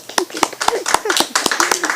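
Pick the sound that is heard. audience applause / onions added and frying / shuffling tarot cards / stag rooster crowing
audience applause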